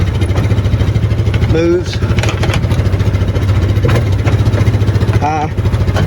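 Yamaha Viking side-by-side utility vehicle idling with a loud, close engine rumble that stays steady while it is put into reverse gear, with someone talking over it.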